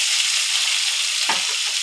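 Vegetables with capsicum frying in a pan, a steady close sizzle with a brief stir or clatter partway through.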